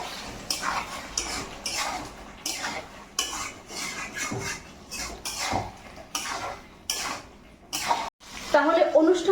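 A spoon repeatedly scrapes and clinks against a pan while stirring potol chingri, pointed gourd and prawn curry finished with ghee and garam masala, in a steady rhythm of close, sharp strokes with a faint sizzle and talk in between.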